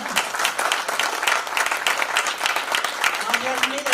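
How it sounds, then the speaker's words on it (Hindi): An audience at a corporate event claps continuously in dense, steady applause that fills the whole stretch, with voices mixed in underneath. "ताली बनती है ना?"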